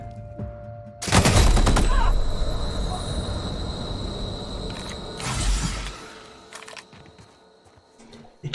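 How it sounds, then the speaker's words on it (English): Light machine gun in The Outer Worlds firing a long rattling burst, then a second shorter burst, loud and close amid game noise, with a voice speaking briefly. "Light machine gun."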